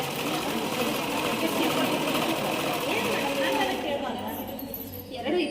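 An electric sewing machine stitching a plastic vegetable bag runs in a steady rapid whir for several seconds, then stops, with people talking over it.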